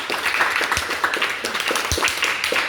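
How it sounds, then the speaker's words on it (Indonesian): A crowd applauds a young speech-competition contestant, steady moderate clapping spread across the whole stretch with a few sharper individual claps standing out. "Iya, tepuk tangan dulu untuk dia"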